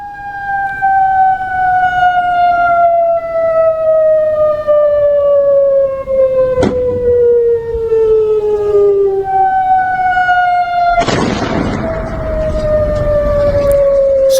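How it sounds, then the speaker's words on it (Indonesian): Air raid warning sirens wail across Jordan during an Iranian attack on a US military base, loud sustained tones slowly falling in pitch, with a second siren overlapping and a burst of broad noise joining near the end. "Sirine peringatan pun kembali meraung di Yordania."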